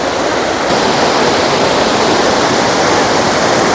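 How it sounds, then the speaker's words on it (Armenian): A waterfall roars close by as a steady, loud, dense rush of falling water, alone and unbroken throughout. "ջրվեժը արդեն երևաց"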